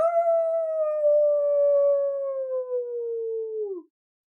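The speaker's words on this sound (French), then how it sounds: "Elle fut tirée de ses pensées par le hurlement du loup." A wolf's long, sustained howl, a single clear tone slowly sliding lower for nearly four seconds before breaking off, loud and close with nothing else around it.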